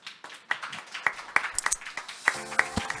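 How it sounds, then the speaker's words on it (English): Sparse, scattered claps from a small audience at a startup demo day. The claps come as separate, distinct hits rather than a full ovation, fairly quiet and set against a near-silent room. "Please welcome him with a round of applause."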